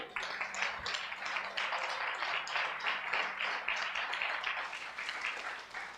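A church congregation applauds during a Sunday service, a steady, dense wash of clapping that holds for several seconds at moderate distance with no voices over it.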